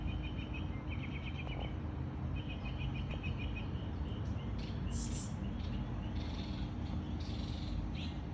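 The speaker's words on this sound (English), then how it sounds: "Listen to the birds." Birds sing outdoors near an olive tree and garden plants, high repeated chirps in short bursts over a steady low background hum, fairly faint and with no talk.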